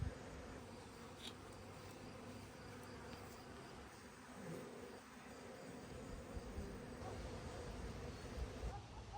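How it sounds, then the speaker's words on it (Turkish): Caucasian honey bees buzz at an open hive in a steady, dense drone that holds throughout at close range, with no talk. "Kafkas arısı bu."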